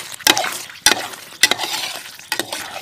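Thick jackfruit toffee mixture being stirred in a pan, with four sharp scraping strokes spaced across a steady close sizzle and no voices.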